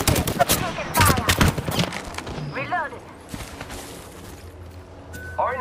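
Gunfire in the video game Apex Legends, during an arenas match: loud, rapid bursts of shots crowd the first two seconds, then the action quietens to softer background fire while a brief in-game voice speaks twice.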